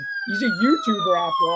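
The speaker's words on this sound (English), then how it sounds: "That's the ambulance coming to pick him up after his broken jaw." A wailing ambulance siren sweeps up and down in pitch as a short sound effect, overlapped by someone talking briefly over it.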